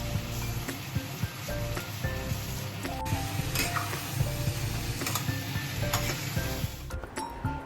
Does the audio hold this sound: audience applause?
no